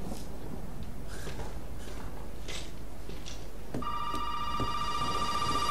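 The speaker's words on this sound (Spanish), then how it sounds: "está sonando el teléfono" Telephone ringing inside the video game Resident Evil 7, a repeating electronic bell tone that begins partway through over a murky, rumbling ambient background, loud and close.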